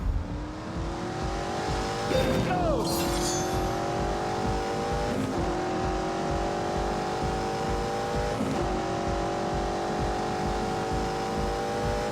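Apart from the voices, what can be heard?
V8 engine revving in The Grand Tour video game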